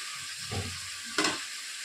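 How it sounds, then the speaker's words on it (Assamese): Potatoes, kohlrabi and tomatoes sizzle in a pan for an Assamese duck curry while two quick, close scraping stirs rise briefly over the low, steady frying hiss. "এতিয়া মই লৰাই দিম।"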